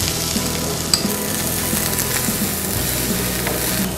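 Chopped onion sizzles in hot coconut oil with popped mustard seeds, a steady close frying hiss with occasional stirring scrapes and light pan knocks.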